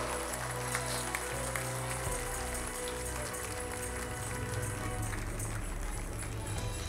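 A church congregation applauds loudly and continuously, a thick unbroken roar of many hands over a low held keyboard chord, filling the room from start to end.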